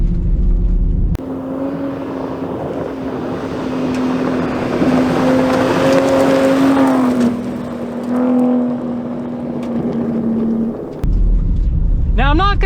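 A Ford Raptor pickup truck pounds over big off-road bumps on a Baja course, its engine droning loudly and steadily with a shifting pitch as the suspension is pushed hard, and the sound cuts off near the end.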